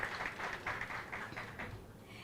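Audience applause at a women's economic assembly side event at a mining indaba, with a crowd clapping steadily and fairly softly, then fading slightly.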